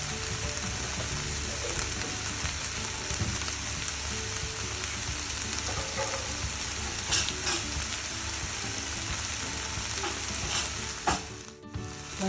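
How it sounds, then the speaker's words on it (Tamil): Tomatoes frying with salt, turmeric, Kashmiri chili powder, coriander powder and garam masala for baingan bharta, a dense continuous close sizzle with faint stirring scrapes, no voices. "தக்காளி போட்டுட்டு அது கூட நம்ம உப்பு, மஞ்சள்தூள், காஷ்மீரி மிளகாத்தூள், தனியாத்தூள், கரம் மசாலா தூள் போட்டு நல்லா ஃப்ரை பண்ணணும்."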